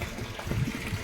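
An aquaponics fishpond pump keeps water circulating with a continuous low trickling and gushing wash, steady and close, without speech.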